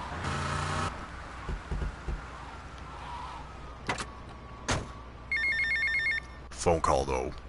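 Telephone ringing in the video game GTA Vice City: a bright electronic ring opens the clip, followed by a second burst of ringing tones midway, over a low game-world hum with scattered clicks and effects.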